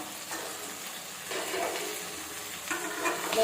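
Cut eggplant fries in oil with curry leaves for kathirikai karamani kuzhambu, a steady close hiss with occasional louder stirring surges.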